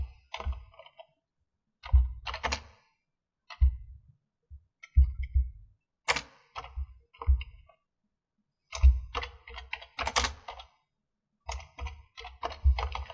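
Mouse clicks and tapping on a computer while using a Zoom whiteboard's text tool: close, crisp clicks in short irregular bursts separated by silent gaps.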